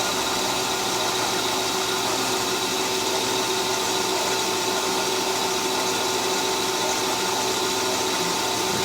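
A metal lathe runs steadily, taking a light turning cut of a few thousandths off a workpiece's diameter, with a constant whirring motor drone and a broad machining hiss throughout and no talk.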